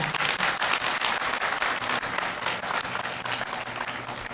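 An audience at a lecture event in Ulsan claps and applauds, a dense sustained burst of many hands that stays steady and loud from start to finish.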